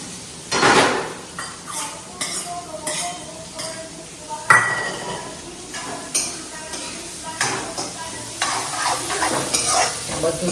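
Garlic and onion fry in a pan for pav bhaji, with steady sizzling and several sharp utensil scrapes and clinks against the pan as it is stirred.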